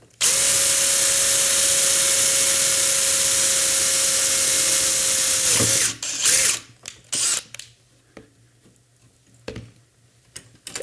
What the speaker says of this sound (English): So I'll go ahead and drill it first and then move the clamp.